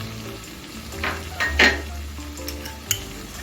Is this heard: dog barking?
no